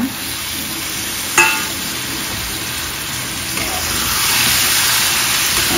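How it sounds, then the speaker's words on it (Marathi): Squid being added to masala and sautéed in a pan, a steady close sizzle with one sharp clack early on and the frying growing louder toward the end. "आता आपण याच्यामध्ये माकली टाकूया"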